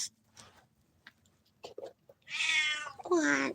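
Cats meowing in a large market building, two loud, drawn-out harmonic meows close together near the end after quieter rustling and faint sounds.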